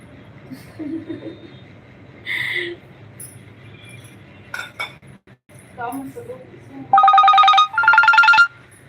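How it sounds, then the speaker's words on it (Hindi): A telephone rings twice in quick succession, bright trilling bursts near the end, after light clinks and scattered talk in a home setting during a live session. "फोन आ रहा"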